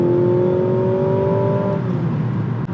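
A Mazda CX-90 plug-in hybrid pulls hard in boost mode, its drivetrain giving a steady rising whir and hum from inside the cabin, loud and continuous without talk.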